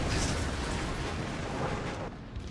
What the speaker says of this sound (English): under military orders, the soldiers blew up the Alcatraz cannon